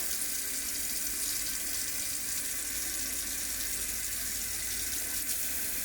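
Tap water running steadily into a sink while it heats up, a constant hissing splash with no breaks and no voices.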